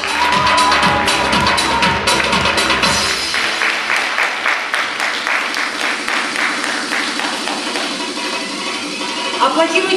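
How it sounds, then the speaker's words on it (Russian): An audience at a bellydance contest in Ukraine applauds and cheers, loud at first then settling into a steadier clapping wash, with music and a voice over a sound system mixed in. "Итак, ваши аплодисменты."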